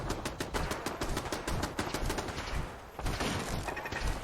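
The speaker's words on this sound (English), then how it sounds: "There's shooting going on." Continuous gunfire from a video game shootout against robots, a fast rattling stream of shots, steady and fairly loud, with a short dip near the end before the firing resumes.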